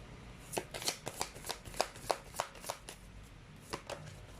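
Tarot cards shuffled by hand, a run of about a dozen crisp riffling snaps at an uneven rhythm, close and fairly quiet with no talking.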